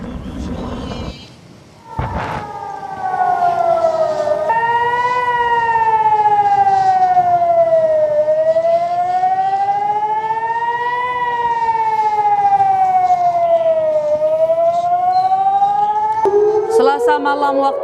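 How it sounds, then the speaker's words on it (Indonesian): An air raid warning siren in Jerusalem wails, rising and falling in long, slow sweeps, loud and steady, after a brief burst of noise at the start. "membuat sirene peringatan di kota itu kembali berbunyi"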